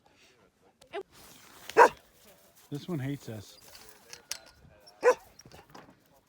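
Sled dogs in Alaska, waiting before a dog sledding ride near Godwin Glacier in Seward, let out sharp barks and yips close by, in scattered bursts mixed with people talking.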